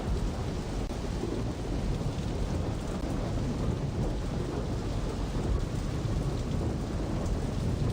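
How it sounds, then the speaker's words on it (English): Rain pours steadily in the Saints Row video game, a dense unbroken hiss with low rumbling thunder rolling underneath, loud and constant without any talking. "Now it's gonna rain."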